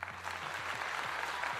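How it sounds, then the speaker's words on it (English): A short burst of applause for a guest on a D&D stream, soft and fairly distant hand clapping, with a low tonal hum running underneath. "Round of applause for Patrick, everybody."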